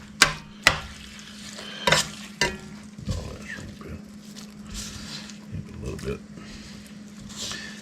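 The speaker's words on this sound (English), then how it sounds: "Now we're gonna put our shrimp in. We'll put it all in together." Shrimp are tipped into a pan of crab meat stuffing and stirred, giving sharp clanks of a utensil on the pan at the start, then a low sizzle with scraping and stirring, close up.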